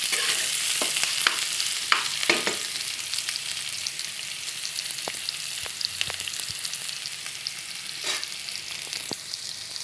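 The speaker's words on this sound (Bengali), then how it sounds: "পেঁয়াজটা দিয়ে আমি আরও কিছুক্ষণ রান্না করব, পেঁয়াজটা একটু নরম হয়ে আসে।" Potatoes and onions fry in a pan, a steady loud sizzle running throughout with scattered scrapes and knocks of stirring, no voices.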